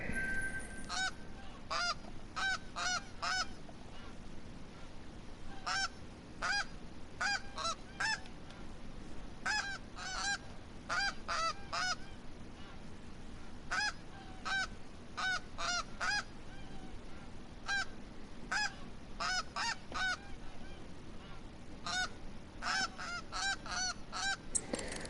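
Goose calls in the hunting game Hunter: Call of the Wild: repeated honks in quick clusters of two to four, sounding clearly and steadily throughout against a faint background hiss.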